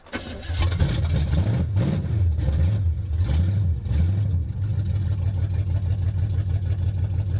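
A 1973 Chevy Chevelle V8 with no choke and heavy oil rumbles loudly and steadily after catching, its idle wavering up and down at first before settling into an even warm-up run.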